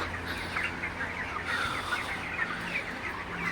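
Broiler chickens crowd a hot poultry shed, filling it with a steady, continuous clucking and chirping from many birds, moderately loud and unbroken, with no talking.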